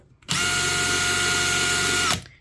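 A DeWALT cordless impact driver on its high setting whirs loudly and steadily at high speed for about two seconds, starting and stopping abruptly with no talking.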